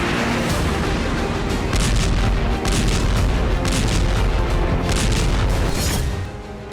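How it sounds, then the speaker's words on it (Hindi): Explosions from attacks on Russian soil roll out as a loud, dense barrage of heavy booms and blasts, several bursts following one another over continuous rumbling, with no voices. "रूसी जमीन पर हो रहे धमाके यूरोप के कई देशों का सुकून छीन सकते हैं"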